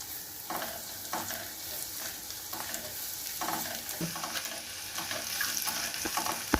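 Onion and green chilli sauté in a pan for a cauliflower roast: soft spatula scrapes every half second or so over a gentle, quiet sizzle, with no voices.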